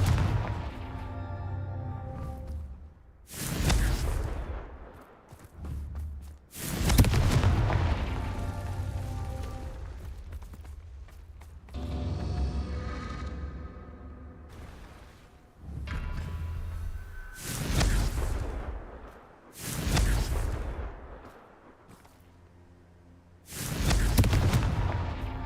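Confringo blasting spells from Hogwarts Legacy erupt as loud booming explosions, about seven sharp bursts at irregular intervals, each with a rumbling tail, standing alone without talk.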